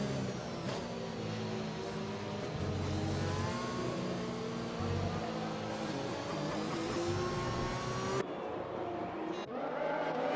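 Race cars in a racing video game drive behind the safety car at Monza, their engines droning and revving steadily and close by, with pitch shifts as gears change.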